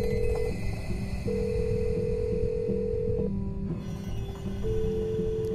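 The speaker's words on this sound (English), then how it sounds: "Bro, why don't you answer the phone?" A telephone rings inside the Roblox game, a steady electronic tone pattern with repeating beeps over a dense game soundtrack, loud and continuous with no talk.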